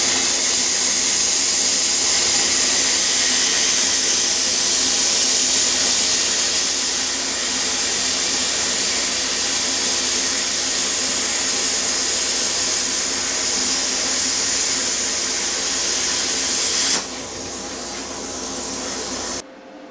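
A Bestarc BTC500DP plasma cutter slices through 1/4 inch steel with a loud, steady, broadband hiss and roar that runs almost without break, then drops abruptly near the end before a brief quieter tail.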